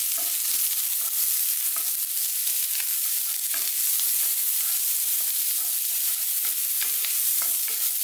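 Vegetables stir-fry in a dry, smoky wok for a sweet and sour pork dish, giving a steady, loud sizzle with frequent scraping and tossing clatters throughout.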